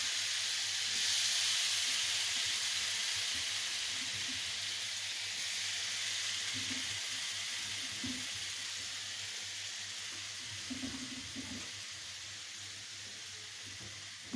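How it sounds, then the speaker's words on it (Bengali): Bottle gourd fries in a pan with a steady soft sizzle and hiss throughout, fairly quiet and even, with faint occasional clinks or stirring and no talking. "লাউটা ভাজি করবো"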